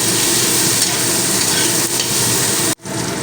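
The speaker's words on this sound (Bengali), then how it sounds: "এবারে সবজিগুলোর সঙ্গে মিশিয়ে নিলাম" Garam masala and vegetables stir-fried in a pan, a loud continuous sizzle with scraping stirring throughout, briefly cut near the end.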